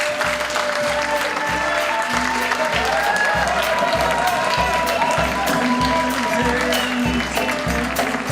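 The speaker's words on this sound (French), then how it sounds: "J'aimerais vraiment qu'on les applaudisse plus fort que ce qu'on a fait." An audience at the Festival du Film Précaire 2012 claps loudly and continuously, a dense sustained wash of applause with some cheering, no pauses throughout.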